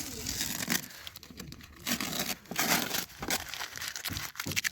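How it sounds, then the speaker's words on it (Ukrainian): Adhesive tape being peeled off chrome trim in a series of crackling, tearing rips, close and fairly quiet, with no talking. "Знімаю скотч."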